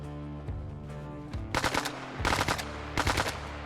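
A Honey Badger rifle with a built-in suppressor fires in Arma Reforger, three short rapid bursts of muffled automatic shots separated by pauses, over a low background hum.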